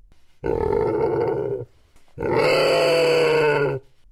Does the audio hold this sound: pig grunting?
yes